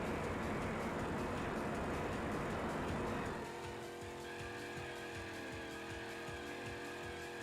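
Kart racing in Crash Tag Team Racing, with a loud roaring engine and tire noise that suddenly drops into a steadier whine with rhythmic bumps as the brake boost kicks in.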